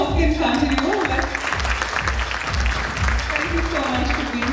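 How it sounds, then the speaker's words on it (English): Audience applause fills the hall at an advertising industry report event, steady dense clapping throughout with talk and a raised voice partly over it. "Yes, the applause can continue."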